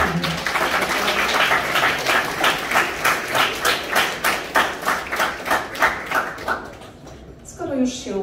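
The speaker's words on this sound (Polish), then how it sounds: "Im także należą się brawa jako podziękowanie." A crowd at a Polish high school's mid-course ball applauds the class teachers. The clapping falls into a strong, fast, synchronized rhythm for several seconds, then breaks off as a voice begins speaking.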